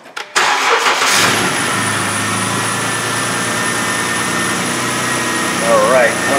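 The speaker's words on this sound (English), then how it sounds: "But let's go ahead and start the engine." A Jeep Wrangler engine with an injector circuit fault and misfire cranks briefly and catches, then settles into a steady, loud idle that continues to the end, close by.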